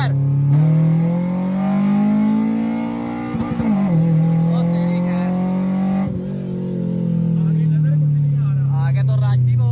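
A race car at a night track session, a K24-engined Project FX build, holds a loud droning engine note that swells, dips briefly with a shift, then climbs again, with people talking over it.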